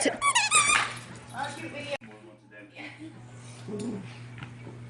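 A rubber dog squeaky toy squeaks repeatedly in quick, high-pitched bursts near the start, then a few more squeaks follow while a person talks over a steady background hum.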